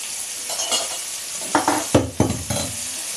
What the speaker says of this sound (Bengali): পেঁয়াজও দিয়ে দিলাম।